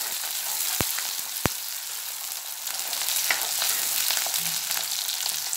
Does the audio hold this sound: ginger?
yes